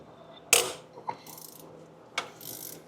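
Ratchet loosening a 14 mm through bolt on the power steering pump of a Nissan VG33E engine, with two sharp close cracks as the bolt breaks free, each followed by a brief rasp of clicks.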